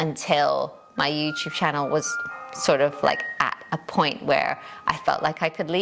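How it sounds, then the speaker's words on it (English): A home doorbell chimes with a few thin ringing tones, partly masked by a person talking steadily over it. "Sorry, that's my doorbell."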